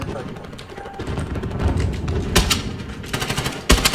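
Gunfire aimed at a tank in Call of Duty: Modern Warfare, several sharp nearby shots and short bursts punching through busy game noise, with a voice talking at times.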